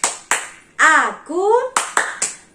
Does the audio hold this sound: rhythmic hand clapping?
yes